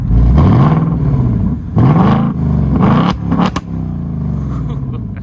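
A 2024 Ford Mustang GT V8 with active exhaust is revved hard to about 5,000 RPM, giving three loud, rising blips, each falling back to a deep idle rumble, with sharp crackles and pops between them.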